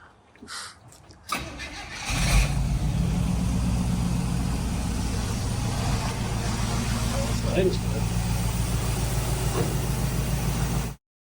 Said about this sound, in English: With the truck idling out in the driveway